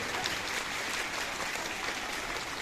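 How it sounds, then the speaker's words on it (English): A crowd at a campus Workers' Day celebration gives a steady round of applause, dense and even throughout the short span with no talking. "Give them a round of applause to appreciate them."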